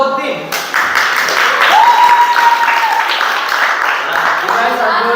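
A school audience applauds both teams after a student English debate, with a burst of clapping that rises quickly and stays sustained, a brief tonal whistle-like sound and some voices mixed in.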